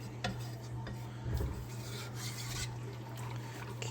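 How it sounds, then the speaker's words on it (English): Biscuit gravy is stirred in a pan, with soft scraping rubs of the utensil over the bottom and sides, close and fairly quiet, over a low steady hum. "we're just going to keep stirring it in"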